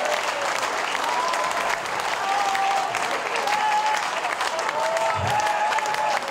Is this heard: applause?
yes